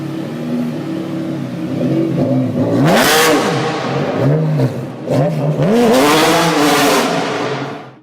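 A Mercedes car engine revs hard and loud in two rising bursts, climbing and falling in pitch with a brief lull between them, with no talking over it.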